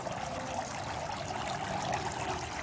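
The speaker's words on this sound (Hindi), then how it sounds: "उसके जो पानी की खन खन है की आवाज़ है बहुत ही प्यारी है" A decorative water fountain in a terrace garden trickles steadily, with a close, constant splashing and babbling flow and no talk over it.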